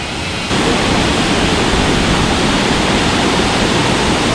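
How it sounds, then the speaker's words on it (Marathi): A loud, steady roar of the Panwal waterfall fills the whole stretch, broad and continuous, starting abruptly after a brief quieter moment. "दिसतंय पानवलचा धबधबा"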